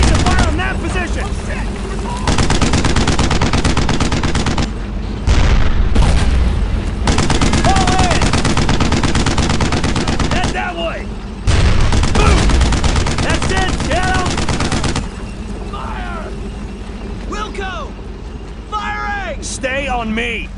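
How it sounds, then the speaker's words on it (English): Heavy gunfire and machine guns in the World War II video game Brothers in Arms: Road to Hill 30, with loud sustained bursts of automatic fire and shots rolling on and off, under shouted soldier voices. "Don't stop firing!"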